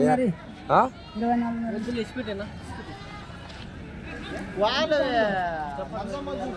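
Female goats bleating nearby at a goat market, a few drawn-out wavering cries spaced apart, with people talking quietly in the background.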